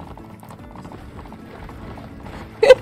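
Horse hooves clip-clop in the Roblox game Horse Island, soft, quick repeated game-sound steps that end in a brief louder burst.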